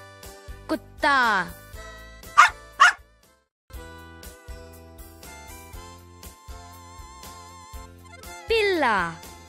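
A dog barks in several quick, close yips and woofs near the beginning, then once more with a longer bark later, all over a bed of gentle music.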